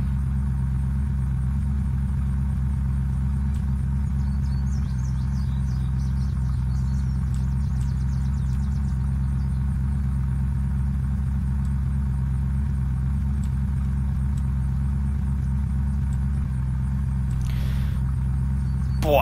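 A slow, run-down car idles in the survival game Unturned with a steady, low engine hum that holds evenly throughout, close and unchanging, with faint incidental sounds above it.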